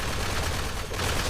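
Shredder minigun in Fallout 4 firing at gunners, a loud, dense, unbroken burst of rapid automatic fire, with no talk over it.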